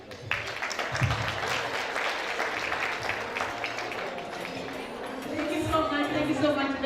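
An audience at the Kenya American Talent Awards 2022 gives a sustained round of applause, fairly distant and even, with a voice talking over it toward the end.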